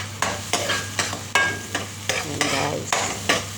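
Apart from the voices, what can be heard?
stirring eggplant, onion and garlic frying in oil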